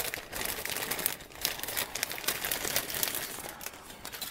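Plastic bag crinkling while a Revell Haunebu II model kit is unboxed, a steady close-up rustle and crackle running continuously with no talk.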